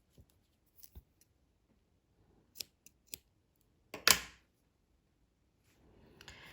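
Scissors snip through dark pink crochet yarn in a quiet indoor setting, a few sparse clicks of the blades followed by one louder, crisp cut, then soft rustling of handling.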